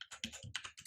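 Computer keyboard typing: a quick burst of about eight sharp key clicks in under a second, close and quiet, with no talk.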